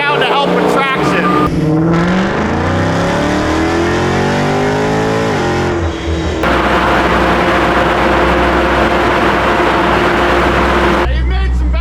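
A high-power rear-wheel-drive car runs hard on a dyno, its engine roaring loud and close as it climbs steadily through the gears, cutting off sharply near the end, with talk over the noise.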